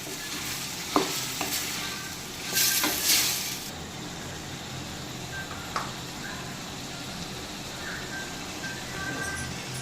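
Cauliflower is stirred and sautéed in a pan for a cauliflower and pea kurma, a soft continuous sizzle broken by a few spoon scrapes and a louder burst of frying early on, close with no talk.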